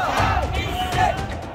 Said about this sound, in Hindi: राष्ट्रपति आवास पर भीड़ का कब्जा है।